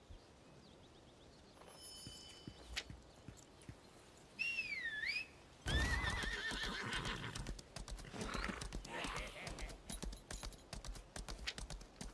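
A horse in the video game Lost Ark clip-clops along at a steady gait, giving a loud whinny partway through, with faint whistling and bird calls in the background.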